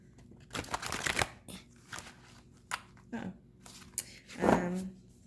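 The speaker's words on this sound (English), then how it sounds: "If you like to do the little like side shuffle like this, you'll probably have a little hard time." Large oversized playing cards are side-shuffled, riffling and flicking in several quick bursts, with short pauses between, close by and fairly loud.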